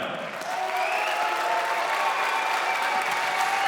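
Crowd applause fills the arena after an MMA cage fight win at CAGE 66, a steady, dense clapping that swells slightly after the first half second and holds loud and continuous throughout.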